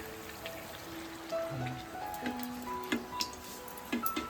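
Rain patters outside with scattered drips ticking on a surface, a soft steady wash with faint tonal sounds in the background.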